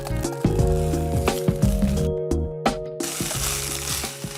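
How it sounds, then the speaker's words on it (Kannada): Ginger garlic paste dropped into hot sunflower oil tempering with cumin, sizzling and crackling steadily up close while a spoon stirs, with background music and no talk. "ಓಕೆ, ಇವಾಗ ಶುಂಠಿ ಬೆಳ್ಳುಳ್ಳಿ ಪೇಸ್ಟ್ ಅನ್ನ ಹಾಕಬೇಕು"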